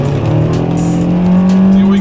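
A 2013 Nissan Sentra in sport mode accelerates hard on a wet road in the rain, its CVT holding a loud steady high-rev drone with tire hiss, heard from inside the cabin.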